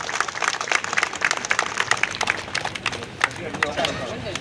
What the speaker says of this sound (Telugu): చప్పట్లతో ధన్యవాదాలు తెలియజేయాలి.